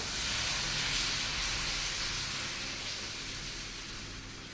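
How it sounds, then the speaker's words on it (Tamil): Dosa batter sizzles steadily on a hot pan while a Tamil home cook makes dosas alongside tomato pickle, a close, broad hissing that fades slightly over a few seconds with no talking. "இப்போ அடுத்த தோசையும் ஊற்றிக்கிறேன்"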